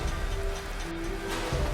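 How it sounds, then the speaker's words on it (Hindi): Heavy rain pours steadily on a forest path at night, a dense, constant hiss with a low rumbling undertone, close and enveloping, with no voices. "इतनी जोर से बारिश होने लगी"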